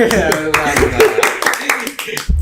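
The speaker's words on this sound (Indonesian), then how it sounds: "tepuk tangan sendiri" A man claps for himself at his own introduction in a studio chat, a quick run of light, sharp hand claps mixed with voices and laughter.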